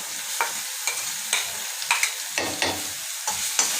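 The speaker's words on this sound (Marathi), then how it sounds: "वाटण अगदी आपल्याला 1 मिनटं परतून घ्यायचं आहे, लसणाचा कच्चेपणा जाईपर्यंत" Garlic and green chili paste sizzles in hot oil in a pan, made as the filling for batata vada, with a spoon stirring through it in repeated scraping strokes over a steady, close frying hiss.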